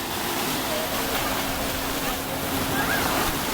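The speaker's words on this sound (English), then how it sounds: "the waves are much stronger and there's not that many people speaking or talking" Ocean waves wash continuously along a Hawaiian shore, a broad steady surf roar with faint wind and no clear voices.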